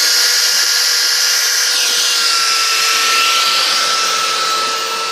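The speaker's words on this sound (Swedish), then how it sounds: "Stefan putsar en stock" A power tool sands a wooden log at a woodcraft session, a loud, steady whining drone that stays close and constant throughout, with a brief pitch dip as the tool bears down.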